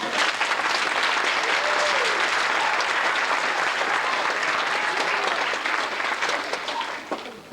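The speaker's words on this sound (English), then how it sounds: "how about one more round of applause?" Sustained, steady audience applause fills a junior high school band concert hall, loud and continuous before tapering off at the end.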